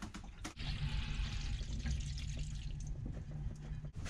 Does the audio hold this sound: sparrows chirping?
no